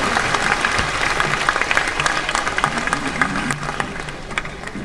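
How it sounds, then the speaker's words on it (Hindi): Audience applause at a ceremony opening with a lamp lighting in a convention centre, a dense, steady wash of many hands clapping at once for about five seconds, fading slightly toward the end. "जोरदार ताली आप सभी ओर से होनी चाहिए"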